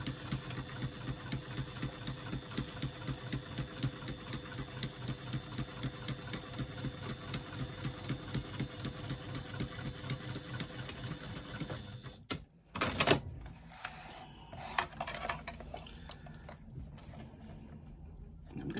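A sewing machine stitches lining fabric for a retro clutch bag, a steady fast mechanical whirr and rapid needle rhythm for about twelve seconds, then stopping with some clicks and handling noises.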